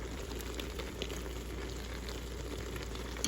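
Butter sizzles and bubbles in a Ninja Foodi pot on sear/sauté, a soft, steady crackling hiss with no pauses.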